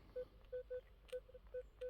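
A metal detector sweeping a beach gives a faint, steady tone in short, evenly pitched beeps, about seven in under two seconds, with no talk over them.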